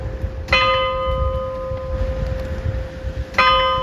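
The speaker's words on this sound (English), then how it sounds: "Bells are ringing for me." An old church bell near Royal Greenwich in London strikes twice, about three seconds apart, each stroke ringing out with a long sustained hum over street ambience.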